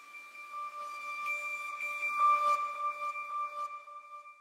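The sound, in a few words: music sample with reverb and ping-pong delay effects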